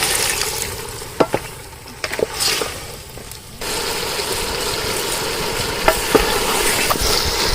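Goose meat stir-fried with chili and turmeric powder in a pan, a close crackling sizzle broken by sharp spatula clacks and scrapes, dipping briefly before a louder, denser hiss resumes after hot water is added.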